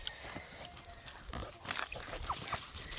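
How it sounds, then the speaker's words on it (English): A small rooster on a farm kept with hundreds of chickens gives a few soft clucks, close by, over a steady bed of outdoor background noise. "Look at this little rooster."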